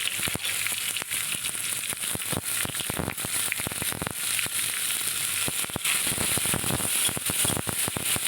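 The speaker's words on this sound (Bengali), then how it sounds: "তেলের ওপরে পেঁয়াজটা দিয়ে দিলাম" Chopped onion dropped into hot oil while cooking goat head and meat trimmings, crackling in a loud, dense, continuous sizzle with sharp pops throughout, close up.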